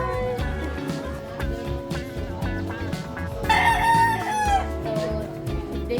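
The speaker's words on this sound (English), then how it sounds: "all of a sudden a rooster will do its cockle-doodle-doing" A rooster crows loudly and close in the Tondo slum of Manila, one long cock-a-doodle-doo rising over a busy street bed of hum, clatter and distant voices.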